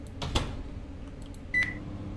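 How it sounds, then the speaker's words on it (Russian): A microwave oven in Fears to Fathom hums quietly, a couple of soft clicks sound, and then a single clear electronic beep rings out. "А ты чё, микроволновка, что ли?"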